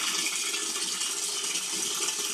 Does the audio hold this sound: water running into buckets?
yes